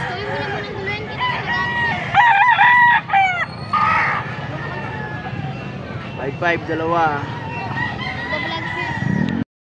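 Roosters crow loudly nearby at a Sunday poultry auction, several drawn-out calls overlapping, with clucking and people chattering in the background throughout.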